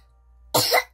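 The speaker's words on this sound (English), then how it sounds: "I just need to cough." A single short, sharp cough close to the microphone, after a moment of near silence.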